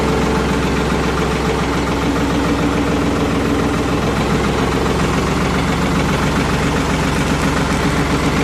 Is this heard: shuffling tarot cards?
no